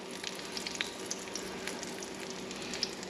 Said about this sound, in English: We're shallow frying these in a little bit of vegetable oil